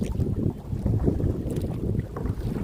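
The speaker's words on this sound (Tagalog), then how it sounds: "ay mahangin" Strong wind buffets the microphone with a steady low rumble while kayaking on the sea, gusting throughout with no one speaking.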